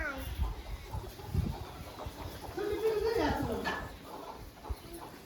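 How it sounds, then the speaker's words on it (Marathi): A hen clucks among her baby chicks in a village yard, with soft, intermittent clucks and peeps mixed with outdoor background noise. "मला कोंबडीची पिल्लं दाखवायची होती"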